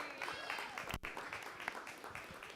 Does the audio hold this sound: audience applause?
yes